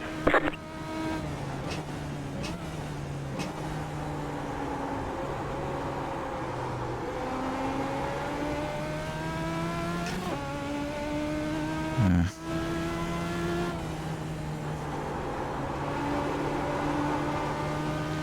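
Racing cars circuit a track, engines droning and whining through changing gears as they pass, with pitch rising and falling steadily across the clip and a brief sharper disturbance midway.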